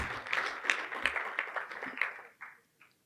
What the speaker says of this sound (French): On peut l'applaudir, c'était son intervention